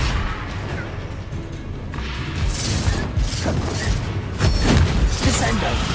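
Confringo explosive spell blasts in the Hogwarts Legacy video game, a dense run of booming impacts and crashing bursts over continuous battle noise, with a voice shouting spell names through the fight.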